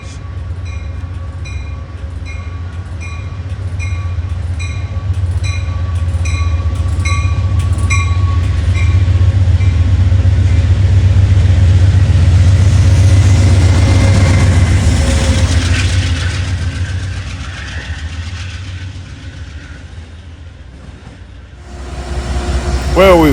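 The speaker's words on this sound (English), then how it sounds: "Departing is train 488, the Valley Flyer for Greenfield, Mass." An Amtrak Valley Flyer passenger train with a Metroliner cab car rumbles steadily as it pulls away from a station, a loud low engine drone that swells, holds, then fades before a burst of new noise at the end.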